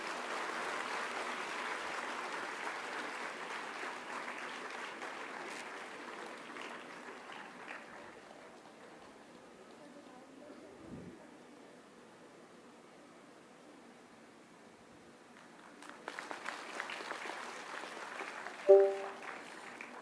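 Applause from the audience at an all-India quiz competition event, a broad hiss of clapping that fades after several seconds, then a quieter lull before clapping rises again near the end, heard from a distance.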